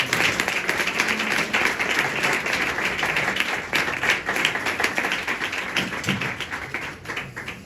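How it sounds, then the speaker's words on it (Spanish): An audience at a book presentation applauds in a lively, continuous burst of clapping with individual claps standing out, fairly close and steady before thinning slightly toward the end. "Un aplauso para Marta."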